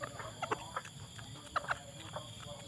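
Bantam chickens kept as ornamental birds on a country farm give soft, scattered clucks in small clusters, fairly faint over a low steady background hum.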